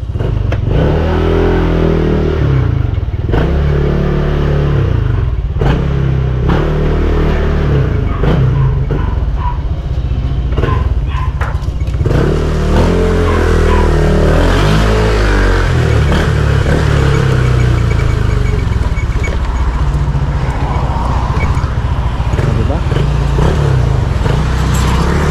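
Honda Click scooter on a test ride, its engine droning steadily and loud throughout with rising revs, wind buffeting and road rumble, with occasional clatter from the bike.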